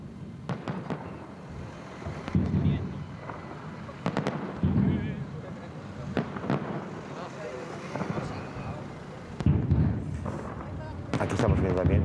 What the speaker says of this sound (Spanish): un castillo de fuegos artificiales